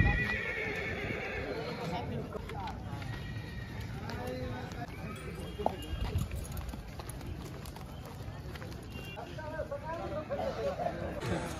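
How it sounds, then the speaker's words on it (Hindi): Horses whinny and neigh at the Sonpur horse fair in India, several calls across the clip, with hoof clip-clop, crowd babble and nearby talk. "देख सकते हैं इस प्रकार से घोड़ा"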